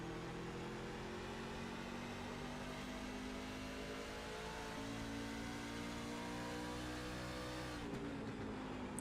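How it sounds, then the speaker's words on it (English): A Chevrolet race truck at Richmond, heard from onboard on the back straightaway, drones with a steady engine whine that rises in pitch and then drops sharply as the throttle eases off. "Eric doing a lot of throttle play right now."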